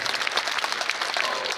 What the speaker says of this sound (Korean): 좋았다고 생각하시면 박수 쳐주시면 됩니다